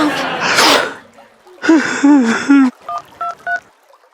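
A phone rings with a short run of bright, evenly spaced electronic tones at home, right after a burst of loud talk and a sneeze-like exhalation; the beeps are close and clear.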